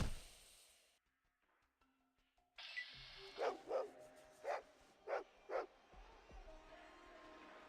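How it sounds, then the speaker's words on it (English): Dog barks from the Fallout 2 video game, about five sharp, evenly spaced barks at moderate volume after a quiet stretch, with faint game ambience and no talk. "I hear a dog."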